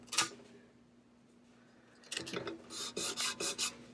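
A Cricut scraper tool rasps across vinyl scraps in a quiet room, one brief scrape at the start, then a run of short rhythmic strokes in the final two seconds.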